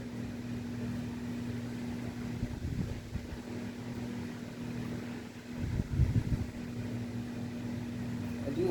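A Windmere DF-7 7-inch oscillating fan runs on its low setting with a steady, quiet motor hum that holds throughout, with a few soft bumps and handling noises near the middle.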